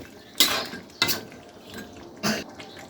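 A lid is set on a pot of Bangladeshi coconut duck curry, giving three short metallic clanks spaced unevenly over a few seconds, close and fairly loud, with faint kitchen noise between.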